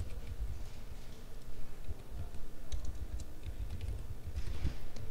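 Password being typed on a computer keyboard: quick, light, irregular key clicks in short bursts, close and fairly soft over a quiet room.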